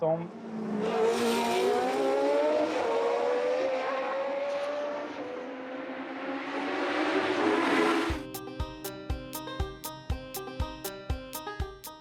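Race cars at the Monaco Grand Prix accelerate uphill, a loud engine sweep rising then fading for about eight seconds before music takes over; faint background voices.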